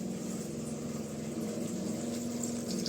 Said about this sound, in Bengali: এই গাছটাতে একটু জল দিয়ে দিই